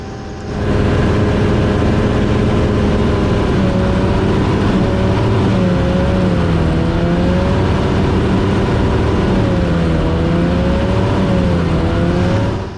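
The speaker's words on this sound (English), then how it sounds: "The engine is faltering, losing and regaining power at the very worst possible time." Engine of an X-Air ultralight aircraft in flight, running loud and continuously, its pitch wavering and dipping repeatedly as it falters, loses and regains power.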